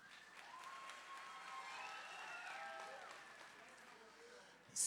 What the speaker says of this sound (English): Let's have a nice round of applause for your wonderful MC